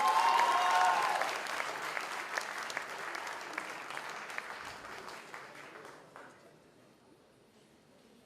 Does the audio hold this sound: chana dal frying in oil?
no